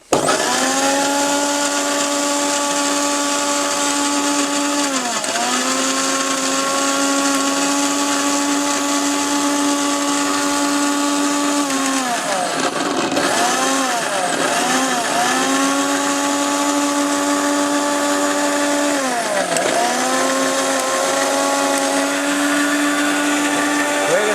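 A powerful 1200-watt four-jar blender runs steadily while making fresh juice, a loud continuous motor whine with pitch dips as the load shifts, and a brief stutter midway before it spins back up.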